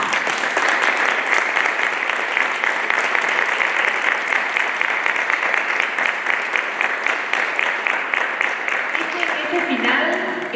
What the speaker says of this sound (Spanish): Así que pido un aplauso a mi esposo.